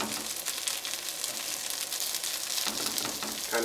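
Rice fries in hot oil over high heat, crackling and sizzling busily with popping bursts, close and steady throughout.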